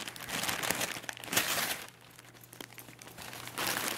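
A dog shreds gift wrapping paper at a Christmas gift exchange, producing close, busy crinkling and tearing bursts with a short lull midway, quiet overall.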